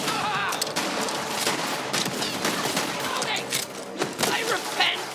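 Gunfire in the video game Borderlands 3, a dense run of rapid shots and thuds firing in quick bursts, loud and close, with little pause between them.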